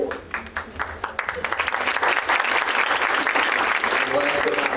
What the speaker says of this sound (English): Round of applause, Kent Middle School.